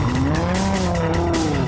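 A Lamborghini Gallardo LP560-4 sliding on an icy track, engine note rising and falling steadily with loud, continuous tire skid and slip noise, close and alone.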